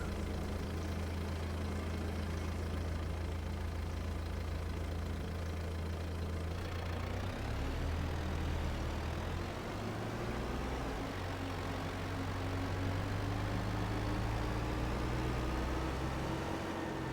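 A Kubota tractor engine in Farming Simulator 22 runs steadily at idle, a droning mid-to-low hum that shifts pitch partway through as revs change, continuous and close with no talking.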